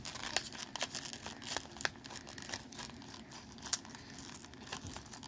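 Cardboard box of an Arkham Horror starter deck being cut open, with a steady run of close crinkling and tearing scrapes broken by sharp little snips and crunches.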